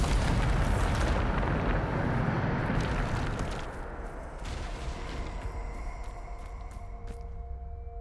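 Bombarda explosion spell cast in Hogwarts Legacy, a loud booming blast at the start that rumbles and decays over several seconds, leaving thin ringing tones and scattered debris clatter.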